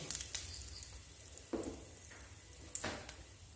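Faint sizzling of cumin seeds and a pinch of asafoetida hitting hot oil, soft crackles and a few small pops scattered over a quiet background.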